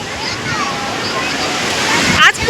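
Sea waves washing in at Juhu Beach on a full-moon evening, a steady broadband wash with a louder surge near the end, while people talk over it.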